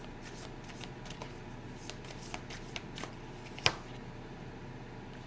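Tarot deck being shuffled and cut by hand, a soft, close series of papery riffles and flicks with one sharper snap near the end, quiet and without talking.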